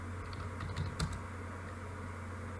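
Steady typing on a computer keyboard while entering commands to configure VLANs on a Cisco switch: a close, continuous patter of key presses with a few slightly louder taps, no talking.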